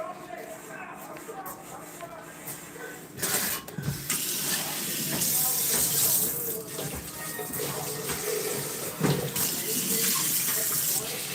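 Tap water runs into a sink with soap being added, a steady rushing splash that grows louder midway, mixed with clinking and rattling, and a person talks over it.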